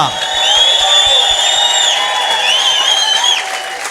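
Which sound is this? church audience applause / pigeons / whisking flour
church audience applause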